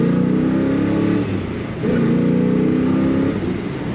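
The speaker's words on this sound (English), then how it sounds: "Such a smooth runner and a quiet engine with a nice rumble out the exhaust." A 1967 Chevrolet Chevelle SS convertible engine running smooth, its exhaust giving a steady low rumble at close range with a brief dip before the revs climb again.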